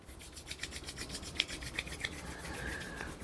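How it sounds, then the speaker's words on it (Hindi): Palms rub together slowly and steadily in a quiet room, giving a soft, repeated dry swishing with a brief louder brush near the middle and no voices. "अपनी हथेलियों को धीरे धीरे रब करिए। Rub your palms"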